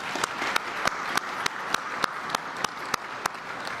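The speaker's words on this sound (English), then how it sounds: "Let's give them a round of applause." A small crowd at a Chicago O'Hare Terminal 3 event applauds steadily, a faint, even patter of clapping with a few sharper claps standing out, and no talk over it.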